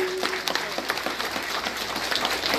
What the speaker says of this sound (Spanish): los aplausos fuertes por favor para los novios nuevamente.